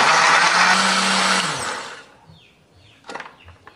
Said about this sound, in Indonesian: Tambahkan sedikit air supaya lebih gampang untuk menghaluskannya ya.